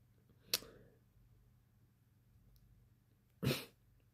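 Two sharp sneezes, or sneeze-like bursts, stand out from a quiet room. A short one comes first and a louder, longer one follows about three seconds later.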